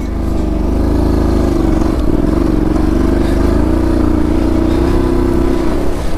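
Honda NC700X adventure motorcycle cruising along a dirt trail at about 30 mph, its steady engine drone loud and continuous throughout, with rumbling low tones and light clatter from the rough ground.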